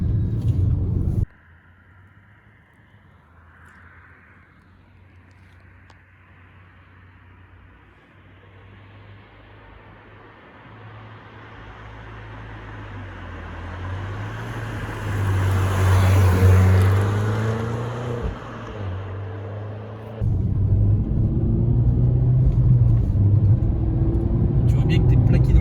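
Peugeot 208 GTI driving on a road through scenic countryside, heard from inside as a low engine drone and road rumble that builds and fades, with people talking at the start and end.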